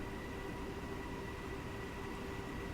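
Train running in the Train Simulator 2015 video game, a faint steady rolling rumble with a constant tonal hum, no voices.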